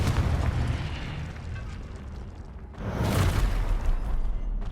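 A Confringo explosive spell blast in the Hogwarts Legacy video game booms out as a loud, rumbling burst, with a second powerful blast surging in partway through over a continuous roaring backdrop.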